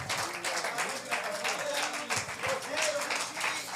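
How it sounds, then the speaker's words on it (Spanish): A church congregation claps, with rhythmic applause under a preacher's voice and overlapping speech. "applause to the Lord."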